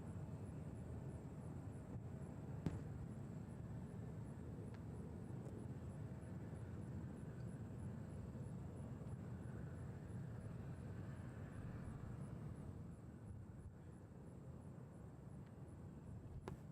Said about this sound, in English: another flight taxiing for departure, Delta 5190, headed to RTU, CRJ9